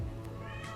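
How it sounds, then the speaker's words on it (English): A cat meows twice in the background of a quiet indoor room, two short rising calls under a low steady hum, somewhat distant. "Excuse my cat in the background."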